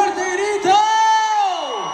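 Concert crowd at a live show in Watsonville, California, letting out a loud sustained shout and cheer, a rising collective whoop that swells then fades across two seconds.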